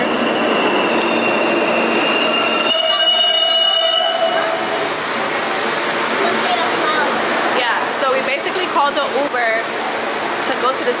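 A New York City subway train rattles along with loud, continuous rumble and wheel noise, at times high squealing. Voices sound faintly through the din.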